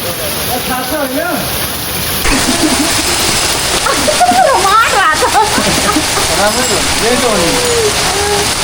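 Heavy late-night rain in Birgunj, Nepal beats down loudly and steadily close by while people talk over the constant roar.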